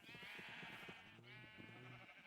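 Sheep bleating inside a Minecraft sheep farm, two drawn-out wavering bleats in quick succession, clear and steady over a quiet game backdrop with no speech.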